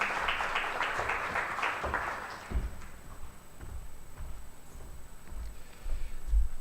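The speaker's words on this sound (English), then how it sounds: "Please give him a round of applause." An audience at a conference plenary and awards session claps in a burst of applause that quickly thins out, leaving scattered claps and room noise.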